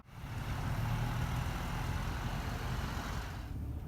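A Mercedes-Benz C300 engine rumbles up from quiet into a steady, low running drone as the drive begins, faint and even for several seconds without voices.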